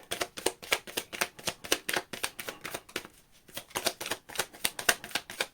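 Tarot cards are shuffled by hand in quick riffling bursts, a dense rapid patter of crisp card slaps with a brief pause midway, close and alone with no talk.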